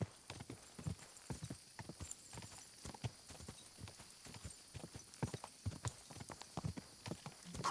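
Rapid, rhythmic hoofbeats of a horse galloping in the medieval video game Kingdom Come Deliverance 2, steady clip-clop pounding throughout over a faint ambient bed.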